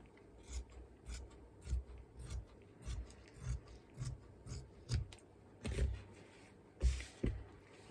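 Fabric bunting flags being cut out with scissors: a steady run of close, crisp snips in quick rhythm, about a dozen cuts, with no voice.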